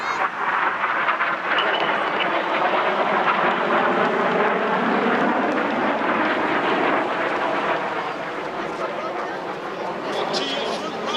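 Red Arrows display jets flying a high-g manoeuvre at the Clacton seaside airshow, a steady, loud roar of jet engines that persists for the whole stretch while a commentator keeps talking over it.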